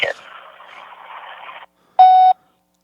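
An answering-machine greeting on a phone line ends, and after a short silence a single loud, clean voicemail beep sounds for about a third of a second.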